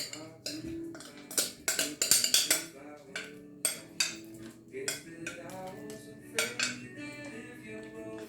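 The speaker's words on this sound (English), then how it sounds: "And then go ahead and spread your batter." Sweet potato bar batter spread in an 8x8 baking pan, a run of close utensil scrapes and metallic clinks against the pan in irregular bursts, alone without talk.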